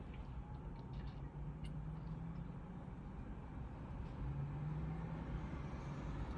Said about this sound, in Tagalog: Panoorin natin yung mga dumadaan na sasakyan.